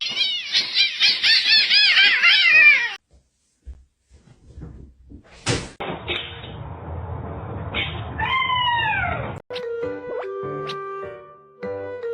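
A cat gives a rapid series of loud, close meows for about three seconds, followed by clattering and knocking household sounds, a running tap-like wash and some higher sliding tones.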